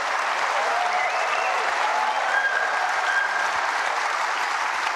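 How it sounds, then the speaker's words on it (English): A large snooker crowd at Kai Tak Arena applauding a shot, sustained dense clapping that holds steady throughout with a few faint whistles on top. "Warmly appreciated by this large crowd at the Kai Tak Arena"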